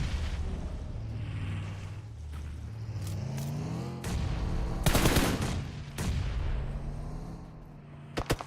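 Grenade blasts and gunfire in an esports match of a shooter video game: sharp shots and a loud burst of explosion mid-clip over a rumbling engine-like drone, with further cracks near the end.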